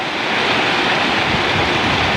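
Water gushes hard from a spring source during heavy rain, a loud, dense, continuous rushing roar close to the microphone with no talk over it.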